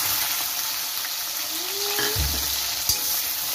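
Onions frying in hot oil with fenugreek seeds for a fish curry, a steady close sizzle that holds evenly throughout with a faint stir partway through and no voices.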